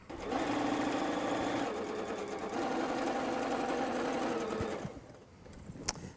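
A sewing machine runs steadily and close, stitching a seam on a quilted wall hanging, then slows and stops near the end.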